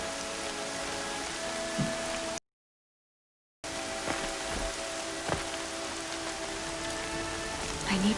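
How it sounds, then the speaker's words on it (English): Steady rain patters on a surface with occasional louder drops, broken by a brief moment of total silence partway through. "Here comes the rain."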